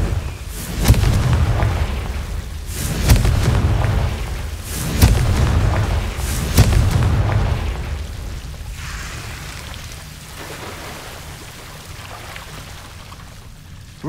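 Fiery Confringo spell blasts from the Hogwarts Legacy video game, four loud booming bursts at roughly even intervals, then a softer rumbling fade with a crackling, rain-like texture.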